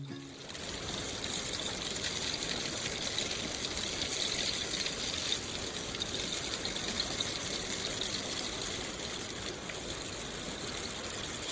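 A rainstick gives a steady, hissing cascade of tiny pellets trickling down, like rushing rain, continuous and even throughout.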